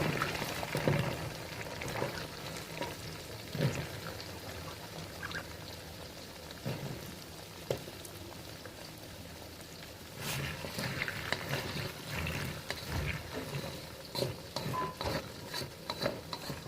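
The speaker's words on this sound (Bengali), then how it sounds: "এবারে আমরা দিয়ে দিচ্ছি কেটে রাখা আলু" Cut potatoes added to spices frying in oil in a pan while cooking Bengali pui shak chingri: a soft, continuous sizzle and crackle with occasional clatters and scrapes, fairly quiet and close.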